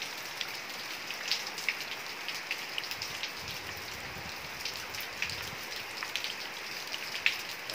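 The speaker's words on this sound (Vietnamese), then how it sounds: "Trời mưa rất là lớn luôn." Heavy rain pours steadily outdoors among potted small-leaf dinh lang bonsai, a dense continuous hiss with scattered sharper drop impacts, fairly faint and even throughout with no voices.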